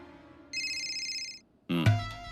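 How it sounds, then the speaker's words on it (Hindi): A telephone rings with a steady electronic tone lasting about a second, followed by a louder burst of mixed sound, brief and close with no speech. "फोन है।"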